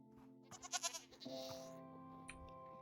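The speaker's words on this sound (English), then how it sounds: "I just hit a goat because of you." A goat in Minecraft gives a quavering bleat, a short wavering call, followed by a longer trailing one, faint and clear over a quiet game background.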